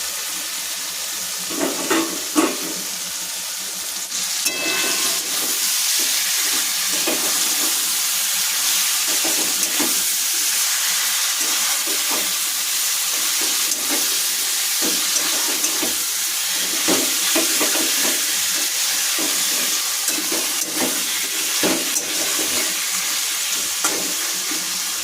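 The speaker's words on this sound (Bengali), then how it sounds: "এই যে প্রায় তেল ছেড়ে এসেছে, এবার চিকেনটা দিয়ে দেবো" Chicken rubbed with salt and turmeric frying in hot oil, a continuous loud sizzle broken by rhythmic scraping stirs and occasional clatters of the spoon against the pan.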